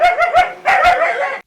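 A dog barks in a quick run of sharp, close barks, a couple of yips, then a brief gap and a final longer, whining bark, loud and alone.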